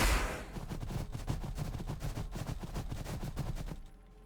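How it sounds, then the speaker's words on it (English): Plasma guns in Warhammer 40,000: Battlesector fire a rapid, steady volley of about twenty crackling shots in under four seconds, loud and close, cutting off abruptly at the end. "Plasma guns getting revenge."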